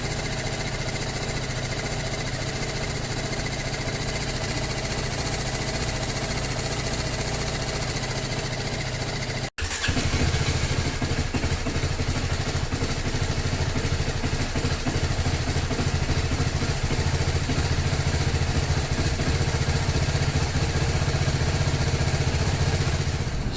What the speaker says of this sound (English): the idling RPM has decreased and it is much more stable now